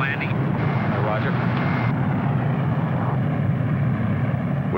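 A C-124 Globemaster military transport comes in to land, its engines a steady, loud broadband drone throughout, with voices heard over the noise.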